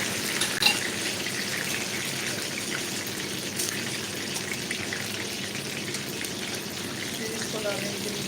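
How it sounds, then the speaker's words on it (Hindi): Food sizzles in hot oil in a pan on a home stove, producing a steady, dense hiss that runs unbroken throughout at an even loudness. "ये देखेंगे मैंने कुछ रखी हुई है इधर फ्राई करने के लिए"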